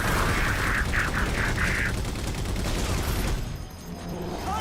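A turret in the Halo 4 video game fires a rapid, dense fusillade of bursts under heavy battle noise. The fire stops abruptly partway through, and quieter rumble carries on afterward.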